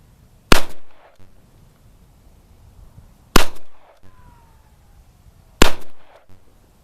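Three loud, sharp revolver shots from a Colt Official Police fired single action, spaced roughly three seconds apart, each with a short echoing tail and no talking in between.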